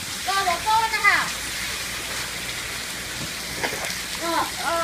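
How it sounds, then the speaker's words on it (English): Heavy rain falls steadily outdoors as a broad, even hiss that continues throughout, while a voice speaks briefly near the start and again at the end. "And Lobo's out in the rain."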